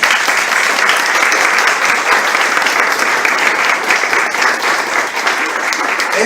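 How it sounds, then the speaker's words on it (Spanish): Loud, sustained applause from a church congregation during a sermon, many hands clapping densely and evenly throughout with slight swells and dips. "Un fuerte aplauso a ese hermano"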